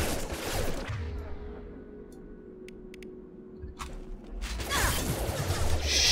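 Gunfire in the video game Mass Effect 2 on hardcore difficulty, with bursts of rapid shots and mechanical clatter at the start and again near the end, separated by a quieter stretch of low game ambience.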